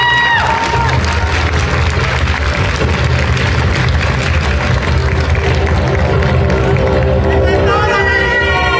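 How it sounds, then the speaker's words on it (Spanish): A pageant audience at the Rey México 2023 regional costume parade claps and cheers in a dense, steady roar of applause and crowd noise that lasts throughout. "Fuerte los aplausos para despedir"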